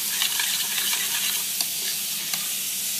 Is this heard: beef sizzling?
yes